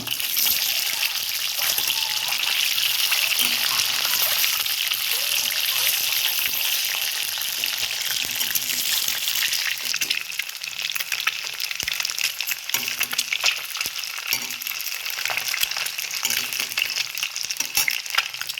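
Eggs frying in a pan for egg curry, a continuous bright sizzle with crackling and spattering throughout, steady and close.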